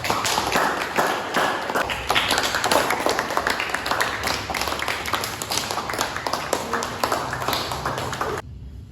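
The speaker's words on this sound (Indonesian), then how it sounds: "Beri aplaus untuk Dela dan Nisa." A room full of people claps for Dela and Nisa at a morning class session, a sustained burst of dense, close applause lasting several seconds before it cuts off abruptly.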